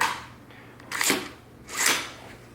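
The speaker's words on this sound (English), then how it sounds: "as I release, we should hear the reset and another click" Two sharp mechanical clicks from a Fightlite MCR belt-fed upper during a dry function test, the trigger click and then the reset, spaced about a second apart, close and crisp in a quiet room with no talking.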